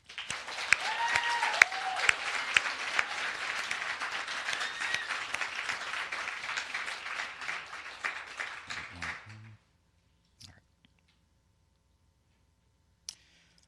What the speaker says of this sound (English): Let's give our technical mentors a big round of applause here.